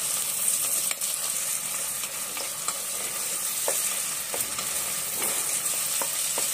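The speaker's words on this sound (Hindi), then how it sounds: "आलू को हम एक से दो मिनट तक मीडियम फ्लेम पर फ्राई करेंगे" Potato pieces fry in butter over a medium flame, giving a steady, moderately loud sizzle with occasional stirring clicks and scrapes throughout; no one speaks.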